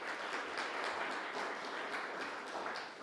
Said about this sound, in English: Let's give a round of applause then for this category of committees.